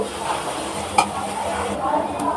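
Onion frying in a pan with garlic paste and ginger paste stirred in, giving a steady close sizzle with scraping stirs and one sharp utensil clink.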